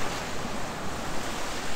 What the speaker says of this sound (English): it's lovely just to listen to the water lapping against the edge of the beach